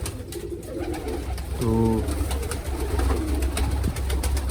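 Pigeons in a breeding cage give a short burst of soft cooing over a steady background hum, with a brief spoken word nearby.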